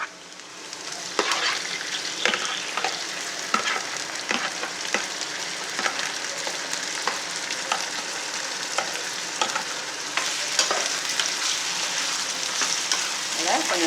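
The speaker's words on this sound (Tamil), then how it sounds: "கொஞ்சம் நேரம் இப்படி ஃப்ரை பண்ணிக்கிறேங்க. கொஞ்சம் லைட்டாக ஃப்ரை ஆகட்டும்." Chicken liver and onions frying in a pan give a steady close sizzle, with repeated sharp spatula scrapes and stirs throughout and no one talking.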